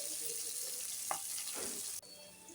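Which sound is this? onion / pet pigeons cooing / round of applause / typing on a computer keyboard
onion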